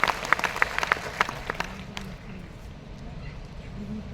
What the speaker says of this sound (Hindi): इसके लिए तो थोड़ी जोर से ताली बजा सकते